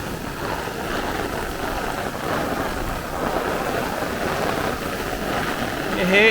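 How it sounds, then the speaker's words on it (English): Heavy thunderstorm downpour during a squall line in Brooklyn, New York, with dense, steady rain hiss and wind rumble against the microphone, loud and continuous and building slightly toward the end. "this is definitely the hardest rain that I have filmed all year, easily"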